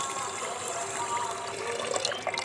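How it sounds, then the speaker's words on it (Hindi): Half a litre of water pours into a pot of sugar for syrup, making a close, steady trickling splash that grows slightly more bubbly toward the end, with no voice over it. "तो 1/2 लीटर पानी हम चीनी में डाल देते हैं।"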